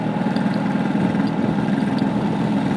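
Vespa scooter engine running steadily with a continuous low buzzing drone, close and constant with no change in pitch.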